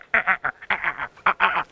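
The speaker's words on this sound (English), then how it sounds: "Almost like a duck, like sometimes. Yeah, so little wood frogs, they'll be calling before you know it." Wood frog calling from a vernal pool, a series of short, duck-like clucking quacks in uneven bursts, close and fairly loud with no talking.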